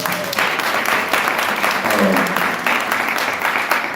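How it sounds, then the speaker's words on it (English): An audience at a conference day session applauds loudly and continuously for several seconds, a dense wash of many hands clapping at once, with faint voices mixed in. "Give yourselves a round of applause"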